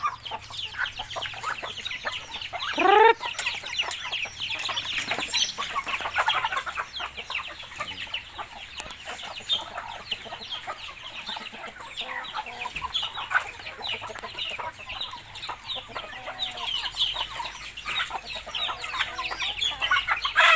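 Pet chickens cluck and chatter steadily at feeding time, a busy layered flock sound close by, with one brief rising squawk early on and no speech.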